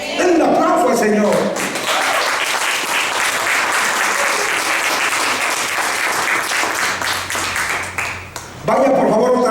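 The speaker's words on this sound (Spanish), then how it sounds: "Den un aplauso al Señor." A church congregation breaks into loud sustained applause for about seven seconds, with a voice talking just before the clapping starts and again once it fades.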